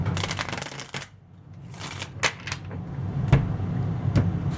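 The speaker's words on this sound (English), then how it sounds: "Let me shuffle one more time. I didn't like how those cards didn't really mix well." Tarot cards shuffled by hand during a reading, a run of soft riffling bursts and papery flicks at close range over a low steady background hum.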